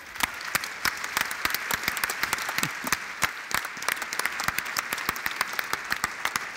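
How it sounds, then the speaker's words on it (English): An audience applauds the winners of the Slush 2017 startup competition, with sharp individual claps standing out over a steady wash of clapping and no voices. "One more big round of applause for the winners."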